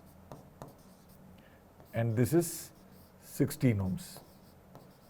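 Chalk or marker strokes on a board during a physics class on Wheatstone bridge circuits, two short scratchy bursts spaced about a second apart beneath a teacher's spoken explanation.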